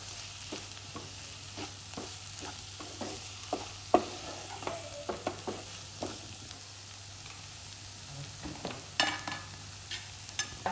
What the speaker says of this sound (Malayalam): മല്ലിപ്പൊടി എല്ലാം കൂടി ഉള്ളിയും പൊടികളെടുത്ത് നല്ലോണം മിക്സ് ചെയ്യാം